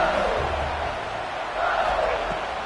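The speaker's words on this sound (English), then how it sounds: "for an entire game, they are on their feet, yelling, screaming" LSU stadium crowd yelling and screaming throughout a football game, a dense continuous roar of many voices that swells slightly toward the end.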